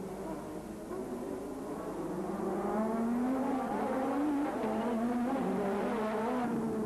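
Formula 1 race cars at the 1986 Grand Prix, engines wailing with rising and falling pitch as they jostle for position, a steady, fairly distant roar lasting several seconds.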